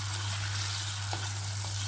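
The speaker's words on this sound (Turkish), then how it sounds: "Ve karıştıra karıştıra kavuruyoruz" Onion and garlic sizzle softly in a hot pan, a steady frying hiss with faint scrapes of stirring and a low hum underneath.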